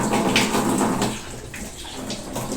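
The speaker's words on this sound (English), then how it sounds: "As you can see, the water is already coming in." Tap water gushes into a Ramtoms RW 115 washing machine tub in a steady, close, splashing rush that fills the whole stretch, with no talk.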